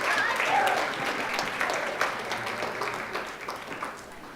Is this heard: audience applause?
yes